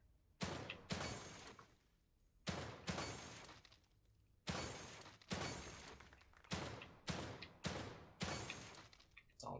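Gunfire in the horror game The Evil Within 2: about ten loud, sharp shots in irregular bursts, each followed by a short decaying tail, with no talk over them.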